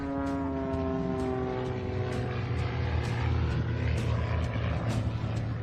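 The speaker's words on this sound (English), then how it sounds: "You can hear this nice engine when he comes across the front of the crowd here." A propeller aircraft engine drones steadily and loudly as the plane passes in front of the crowd at the 2025 Joint Base Andrews air show, a sustained rumble with no talk.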